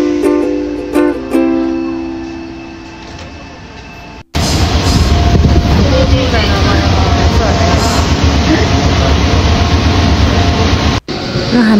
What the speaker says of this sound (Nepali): ट्रेन पनि ठ्याक्क आइसकेको रहेछ